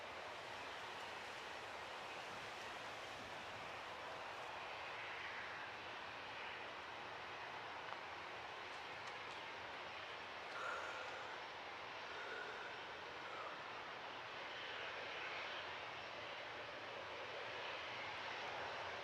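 A TUI airliner taxiing at Manchester Airport gives off a steady, distant jet engine roar that holds evenly throughout, with no talk over it.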